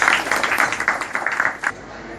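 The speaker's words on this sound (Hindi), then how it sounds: "तालियां" Applause from an audience at a gathering where names are being called out one by one. Clapping comes in a moderately loud, uneven patter of bursts that fades toward the end.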